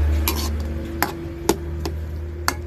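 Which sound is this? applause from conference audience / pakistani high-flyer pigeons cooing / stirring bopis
stirring bopis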